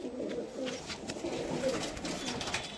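A Pakistani teddy pigeon coos in soft, repeated low murmurs, close and steady throughout, with a faint background hiss and no talking.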